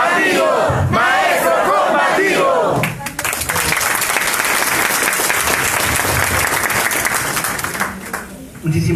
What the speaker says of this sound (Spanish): Un fuerte voto de aplausos, por favor.